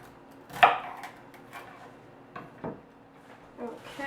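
Parsley is chopped on a cutting board with a knife, giving a few distinct close knocks spaced irregularly over a quiet kitchen background.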